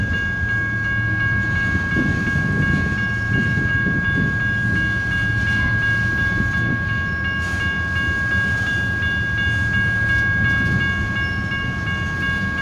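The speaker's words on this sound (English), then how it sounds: "Oh, this is a tanker train, it looks like. Oh, this is all tank cars." A freight train of tank cars rumbles steadily past nearby at a railroad crossing in Bakersfield, California, with continuous rolling and rattling of wheels and a sustained high tonal whine throughout.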